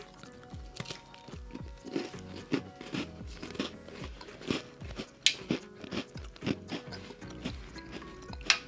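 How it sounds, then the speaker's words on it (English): A crispy Girl Scout cookie is bitten and chewed close to the mic, with sharp crunches repeating roughly every half second over several seconds and faint mouth noises between them. "Yeah, a crispy cookie."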